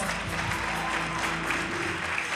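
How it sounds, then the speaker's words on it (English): An audience at a youth choir and singer's spiritual performance claps steadily in a brief burst of applause, with a low, sustained tonal hum lying underneath the clapping. "Give yourselves a big round of applause."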